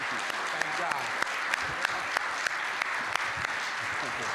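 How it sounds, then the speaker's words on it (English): Audience applause after a personal story of wrongful conviction and exoneration, steady dense clapping from a crowd with a few sharper individual claps standing out, filling the whole stretch. "give him another hand clap"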